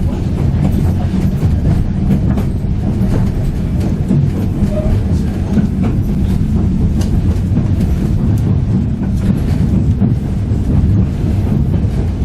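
A passenger train runs along track near Skagway, Alaska, its steady rumble and faint clickety-clack of rail joints continuous and loud throughout, with wind buffeting the microphone.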